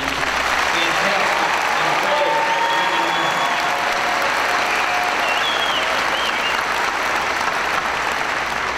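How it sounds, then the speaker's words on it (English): A large crowd at a high school graduation ceremony claps steadily in a sustained round of applause, dense and loud throughout, with a faint hum of voices mixed beneath. "join me one more time for a round of applause"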